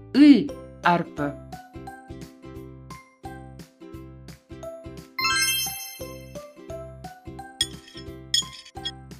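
Dishes and glassware clink and tinkle repeatedly in light, irregular knocks and rings, close by and fairly soft, with a few brief bright chimes.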